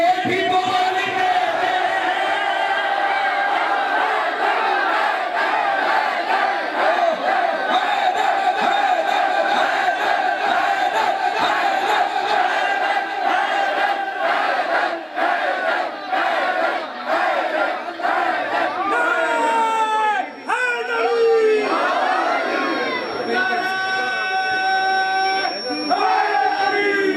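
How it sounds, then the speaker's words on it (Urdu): At a 16 Shaban celebration at Choor Chowk in Rawalpindi, a large crowd chants Ali slogans in a loud, steady, continuous roar of many voices, rising into sharper rhythmic shouts near the end. "علی کے نعرے"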